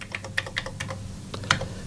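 Scattered keystrokes on a computer keyboard, a handful of separate clicks at an irregular pace, close and fairly quiet against faint room hum.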